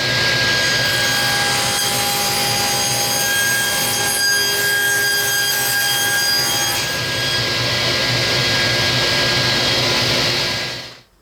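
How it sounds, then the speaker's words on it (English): A table saw rips a 3/4-inch curly maple board to width, a loud, continuous, close whine that shifts slightly in tone partway through and cuts off abruptly at the end. "I'm going to take it over to the table saw and rip it to a width of 3 1/4"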